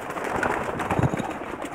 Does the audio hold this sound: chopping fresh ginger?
no